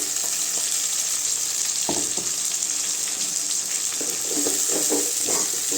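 Ground tomato paste hits sautéed onions in a pan for Katla fish kuzhambu, giving a steady, close sizzle of frying with a few soft stirring knocks and scrapes partway through.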